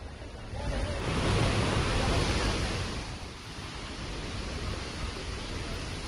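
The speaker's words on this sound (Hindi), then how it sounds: "तो आप देख सकते हैं तेज बहाव के साथ झरने बहने लगे।" Broad roaring rush of a monsoon-swollen waterfall at Bayana's Kunda in Rajasthan, a strong steady gush of water with no talk, swelling slightly louder in the first half.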